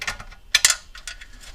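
Sharp ratchet clicks come in short bursts at close range as a wrench with an extension loosens 8 mm bolts from the shroud of a Kohler Command Pro 7 engine, with quiet pauses between the bursts.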